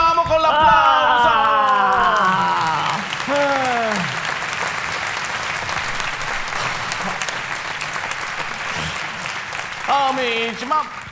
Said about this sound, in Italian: continuiamo con l'applauso